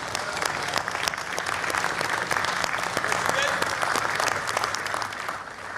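A large festival audience claps for former Nigerian President Obasanjo, a broad, steady wash of applause from many hands at a distance, holding evenly throughout.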